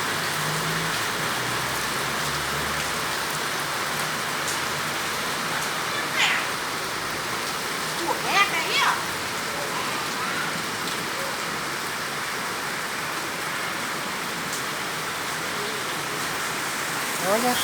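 Heavy rain pours steadily in Santo Antônio de Pádua on the eve of the November holiday, a dense, even hiss throughout, with a few brief higher calls that may be a cat meowing.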